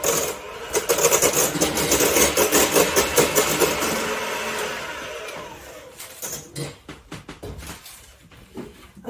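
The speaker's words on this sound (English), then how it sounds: "I have also got some egg whites that I'll just finish off whisking here" Egg whites are whisked with a machine-like whirr that pulses in quick rhythmic strokes, loud and close, then slows and fades into scattered clicks and taps.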